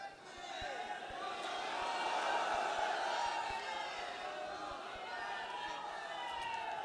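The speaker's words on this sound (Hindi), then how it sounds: "ये अल्लाह अकबर की जो सदाएं बुलंद हुई हैं" A large gathering at a rally hall, with a Sufi dargah's custodian present, raises a loud, sustained collective chant of the Allahu Akbar slogan, a continuous roar of many voices filling the room from start to finish.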